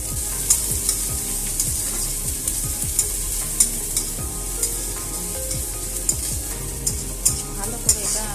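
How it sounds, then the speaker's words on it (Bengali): Crushed garlic and chopped onions fry in hot oil for mash, a loud continuous sizzle broken by regular scraping stirs of a spatula across the pan, close and without talk. "ভালো করে এটা আমি ভেজে নিচ্ছি।"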